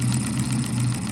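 A running hit-and-miss model engine gives off a steady, close mechanical hum with a faint regular pulsing throb, heard alone.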